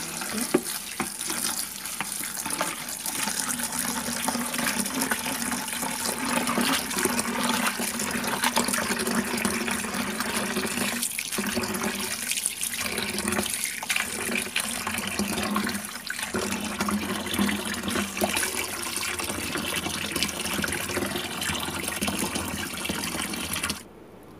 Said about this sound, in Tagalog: Ayan, hugasan po natin ng parsley.